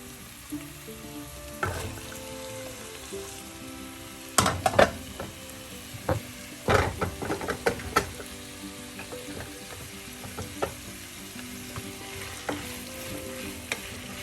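Chopped onions frying for prawn masala, a steady sizzle under sharp intermittent stirring clacks and scrapes of a utensil against the pan, close by with no talking.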